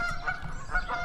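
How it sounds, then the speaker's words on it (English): Geese honk by a lake in Clearlake, California, a brief run of nasal calls heard at moderate distance over steady background noise. "and geese. Honkers down there."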